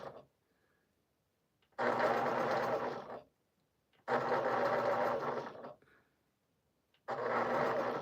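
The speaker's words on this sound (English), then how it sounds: "I do not like this sewing machine for curves" Sewing machine stitching curves on a scrappy Drunkard's Path quilt, three loud steady bursts of rapid motor whirring and needle chatter, separated by quiet pauses.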